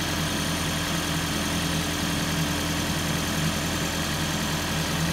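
A Toyota engine with coil-on-plug ignition idles steadily nearby, a constant droning hum with an even vibration and no change in pitch.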